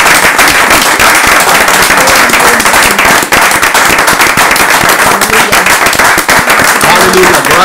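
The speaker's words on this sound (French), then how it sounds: "Est-ce qu'on peut donner une acclamation à Jésus-Christ?" A church congregation breaks into loud, dense applause and acclamation during a French-language service, a crackling wall of rapid clapping right up close, mixed with shouting voices throughout.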